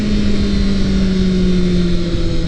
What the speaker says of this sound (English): Check it out, downshifting.